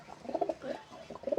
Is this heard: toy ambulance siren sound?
no